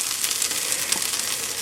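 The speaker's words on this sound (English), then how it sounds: "I love it when it sizzles." Butter chicken sauce sizzles steadily in a pan over medium-high heat, a continuous bright crackling hiss with small pops, close and alone with no talk.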